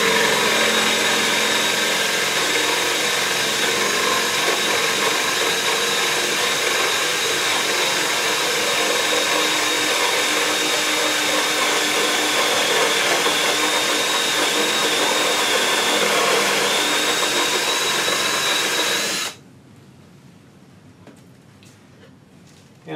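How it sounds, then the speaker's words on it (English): A steady, loud whining drill boring a 1-inch hole in wood for a stool leg runs continuously for nearly twenty seconds, then cuts off abruptly, leaving quiet room noise. "we're going to drill a 1-inch hole"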